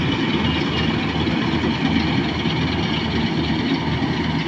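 A tractor engine runs at a steady idle in a field during a paddy harvest with a combine, a continuous loud, low, broadband drone throughout with no voices.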